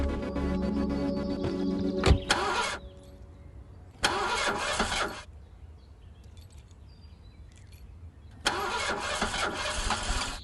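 A tampered-with car engine cranks in three separate loud bursts with quiet gaps between them, never settling into a steady idle, heard close and alone.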